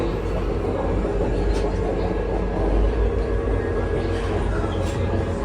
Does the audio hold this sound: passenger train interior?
yes